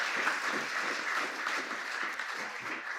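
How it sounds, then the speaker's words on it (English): An audience at a World AIDS Day event applauds, a dense, steady wash of many hands clapping that holds even for the whole moment at a moderate distance. "I better get some applause"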